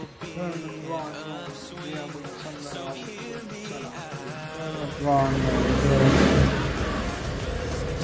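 A motorbike engine revs up, its pitch climbing and then surging louder toward the end, with people talking over it.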